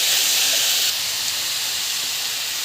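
A tomato and coriander mixture sautéing in a pan gives a loud, even hiss of frying that softens slightly partway through and then continues steadily, with no talking.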